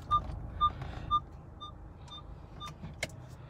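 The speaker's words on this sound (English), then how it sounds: "Of course, you do have a sonar." Parking sonar in a 2020 Nissan Rogue Sport SL emits a series of short, clean electronic beeps at a steady interval, fairly clear over a low cabin rumble, with no talking.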